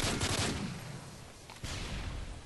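A rapid burst of automatic L85 rifle fire in Call of Duty MW3, loud and close, with a sustained crackling rattle that briefly eases and then picks up again.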